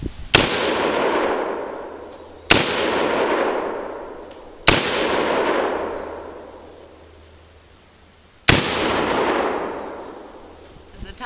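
M4 rifle fired in single shots at a range: four sharp, loud cracks spaced about two seconds apart, each trailing off in a long echoing decay.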